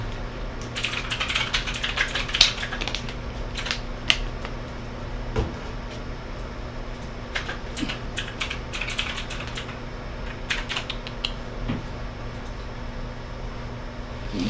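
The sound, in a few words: typing on a computer keyboard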